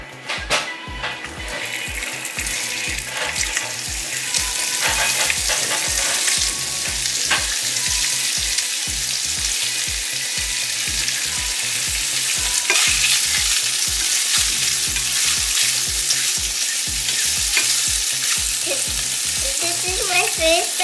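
Sausages (salchichas) fry on a home stove in a loud, continuous sizzle and crackle, with a regular low thumping pulse running underneath throughout.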